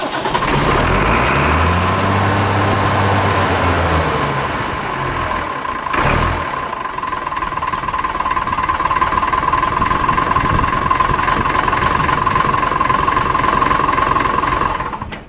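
An old farm engine that drives a grass flail and carries a rotary hydraulic pump cranks over, catches and settles into a steady, loud idle close by, running on alone with no talk.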